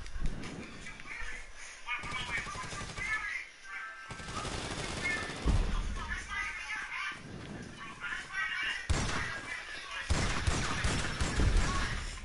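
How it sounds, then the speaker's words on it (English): Repeated shotgun blasts in a video game, loud bursts spaced a few seconds apart under continuous talk and game noise. "That's all you need is a shotgun."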